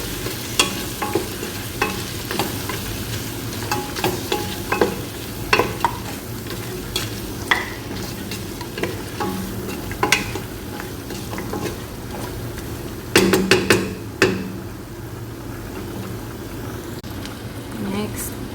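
White beans in sauce being stirred in a pot, with repeated close scraping strokes in an uneven rhythm over a steady bubbling sizzle, a cluster of louder clatters partway through.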